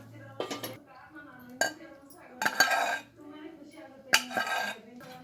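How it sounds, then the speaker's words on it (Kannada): Basale greens soup (basale soppina saaru) is scooped from a cooker into a pot, with several bursts of metal spoon scraping and clanking against cookware. "ಈಗ ಅದು ಪಾತ್ರೆಗೆ ಟ್ರಾನ್ಸ್ಫರ್ ಮಾಡ್ಕೊಳ್ತಾರೆ"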